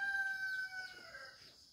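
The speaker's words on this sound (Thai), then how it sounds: "ไก่ป่าแท้นะครับ" A tame wild junglefowl crows near and clearly, a bright, sustained call that trails off over about a second and a half, followed by faint rustling.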